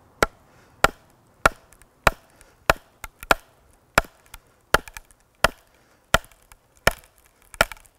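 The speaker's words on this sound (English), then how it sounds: "I can hear it still separating. It's almost like it wants to separate on its own" Wood cracking and splitting under an axe wedge while a spoon blank is carved, heard as sharp, close, isolated snaps and knocks at a steady rhythm, roughly every half to full second, with quiet gaps between.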